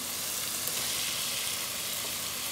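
Fried potatoes go into a pan of sizzling masala for village-style aloo baingan sabzi, giving a steady, dense hiss of frying oil that stays even and close throughout.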